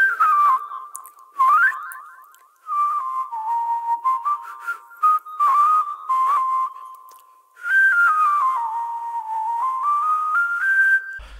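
Whistling carries a melody in a played song, clear tuned phrases that glide and step between notes, broken by short pauses and a few faint backing sounds.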